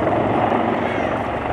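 A Royal Navy Wildcat helicopter climbs at an airshow, its rotor and engine a loud, steady whooshing roar filling the short stretch without pause.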